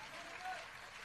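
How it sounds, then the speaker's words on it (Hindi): Audience applause in a hall during a religious gathering, a short, steady wash of clapping at a distance, fairly faint, with a voice speaking over it. "पूरा सदन, बहनों तालियां बजाओ"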